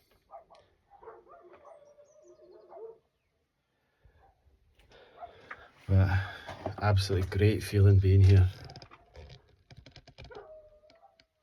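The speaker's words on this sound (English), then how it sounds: "So peaceful and quiet, apart from some dogs barking in" Dogs bark and howl around an ancient stone dolmen, with a loud burst of barking in the middle, while a person talks quietly before and after.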